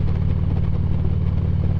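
A motorcycle engine heard from the rider's position with the helmet visor raised, a steady close, loud low drone holding through the whole stretch without talk.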